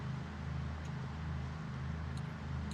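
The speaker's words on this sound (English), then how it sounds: "I do think my truck's a little bit louder than I had originally assumed" A video game truck engine, in an apocalypse survival game, hums at a steady idle. The drone is low and continuous, with faint brief clicks above it and no talking.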